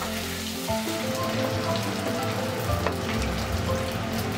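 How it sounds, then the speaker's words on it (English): Washed, patted-dry anchovies frying in hot oil for nasi lemak, a dense, continuous sizzle like steady rain with no talking. "After frying the peanuts, it's time to fry the anchovies."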